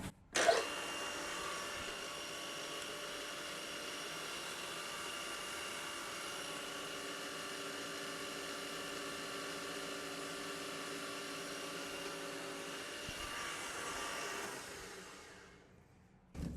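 A D-bit cutter grinding on a tool grinder at 3000 RPM gives a steady whining drone with sustained tonal hum, continuous and fairly loud for about fifteen seconds before spinning down at the end.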